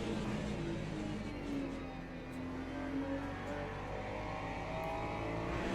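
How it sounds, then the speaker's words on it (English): LMP2 prototype race car in the Le Mans Ultimate racing game, a faint, steady engine drone with a slowly rising tone as it approaches, heard low under continuous in-game background noise. "This LMP2 is coming through."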